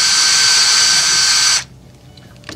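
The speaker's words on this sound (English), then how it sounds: "drill down in each of the 4 holes" A close electric drill whirs steadily at high speed for about a second and a half, then stops abruptly, leaving quiet room noise.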